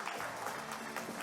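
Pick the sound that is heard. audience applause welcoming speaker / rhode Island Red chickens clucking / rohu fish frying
audience applause welcoming speaker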